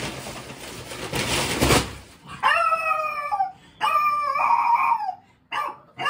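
A dog barks and howls nearby: after a short burst of noise, it gives several loud, drawn-out howling yelps in separate bursts, with brief pauses between them and no talking.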